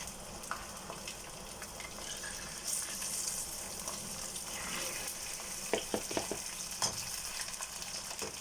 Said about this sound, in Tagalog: Prito na natin guys.